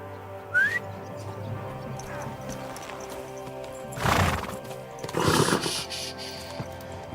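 Horse in Kingdom Come Deliverance 2 whinnying briefly near the start, then two bursts of hoof clatter at moderate volume over a steady outdoor background.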